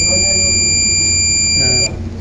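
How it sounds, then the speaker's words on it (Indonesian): A ship bridge alarm sounds as a steady high-pitched electronic tone over a low engine hum, stopping abruptly near the end, with faint background murmur. "Nah ini alarm long."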